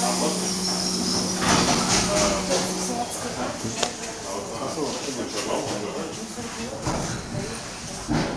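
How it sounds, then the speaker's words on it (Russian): Commuter train doors on a Moscow-region line near Kryukovo and Khovrino slide shut with a rushing hiss and a thud, amid carriage noise and a steady electrical tone, while an announcement voice plays over it. "Осторожно, двери закрываются."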